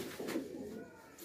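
Faisalabadi pigeons in a breeder's loft give a soft, brief coo, faint and close, against a quiet background.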